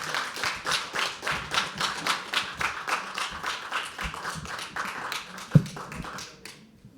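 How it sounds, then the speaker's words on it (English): An open-mic poetry audience claps for the performer Varun in a quick, even rhythm, the sharp claps fairly close and steady for several seconds before fading out, with one heavier thump partway through. "Can we start clapping for Varun?"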